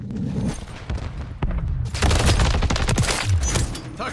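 Rapid gunfire bursts in a Call of Duty: Modern Warfare 3 multiplayer match, a dense crackle of shots over low rumbling booms, growing heavier and louder after a brief lull partway through.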